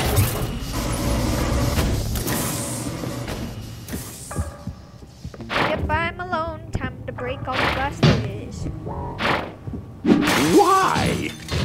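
Glass shattering in the puzzle video game Quantum Conundrum, a loud crashing burst early on, followed by mechanical thumps, hums and sliding sounds, with a voice speaking over parts of it.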